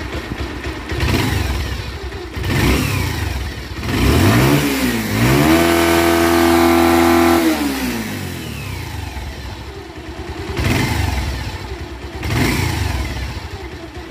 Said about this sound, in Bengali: তারপরে অবশ্যই ইঞ্জিনের সাউন্ডটা আপনাদেরকে শুনেই দেবো